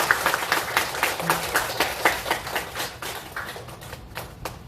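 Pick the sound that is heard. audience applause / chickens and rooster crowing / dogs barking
audience applause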